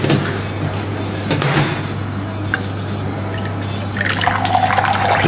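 Green tea leaves rinsed in water for mint tea, a soft sloshing and trickling of liquid with light knocks, turning into a brighter pouring splash near the end, fairly close and without speech.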